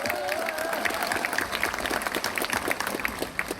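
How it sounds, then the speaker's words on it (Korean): An audience at a political report meeting applauds, a dense, fairly close patter of many hands clapping throughout, with a voice briefly audible under the clapping near the start. "우리 뜨거운 박수 한번 다시 부탁합니다."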